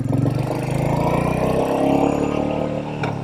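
A Royal Enfield Meteor 350 motorcycle with a newly installed belt drive and an aftermarket exhaust pipe, ridden down a road. Its engine and exhaust give a loud, steady, thumping drone throughout.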